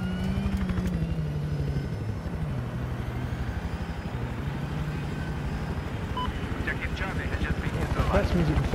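A helicopter flying low along river beds in the video game Battlefield 4 gives a steady droning rotor whine with a wavering pitch, joined near the end by sharp clattering bursts that sound like gunfire.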